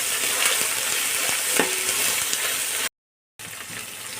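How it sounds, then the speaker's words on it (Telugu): Ginger garlic paste with onions fries in hot oil, a close steady sizzle with occasional spoon clicks, cut by a brief silent gap before the frying resumes. "అల్లం వెల్లుల్లి పేస్ట్ వేసాను, అది వేగింది"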